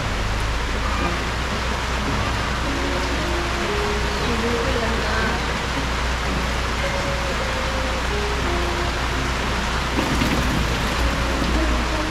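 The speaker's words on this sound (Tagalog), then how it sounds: "Ulan po mga kalingap oh." Steady rain pours down in a dense, even hiss outdoors, loud and continuous throughout, with a faint rumble of distant thunder underneath.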